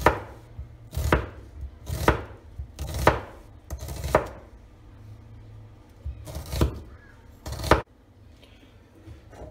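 A knife cuts a peeled onion into thin half-moon slices on a board, sounding as about eight sharp, close chops in an uneven rhythm with quiet pauses between them and no talk.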